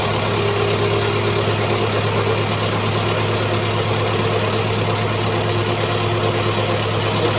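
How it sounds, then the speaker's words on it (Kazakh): An MTZ Belarus tractor's diesel engine idles steadily and loudly at close range, a constant low rumble with a strong hum and no speech over it. "1 литр солярка құйғаннан кейін оталдырамыз тракторда."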